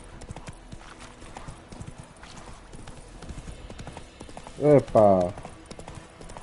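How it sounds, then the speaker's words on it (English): Horse hooves clip-clop in The Witcher 3: Wild Hunt played on PS5, a soft steady patter under game ambience. A horse whinnies loudly near the end, and a man exclaims briefly. "O cavalo tá doido. Tá doidão."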